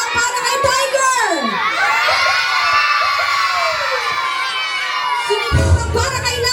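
Children shout and cheer loudly together at a seventh birthday party, a sustained chorus of high, excited voices rising and falling close by, with a brief burst of louder noise near the end.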